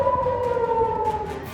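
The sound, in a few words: air raid sirens sounding in Israel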